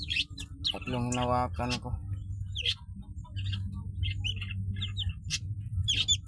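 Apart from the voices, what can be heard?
duckling chicks peeping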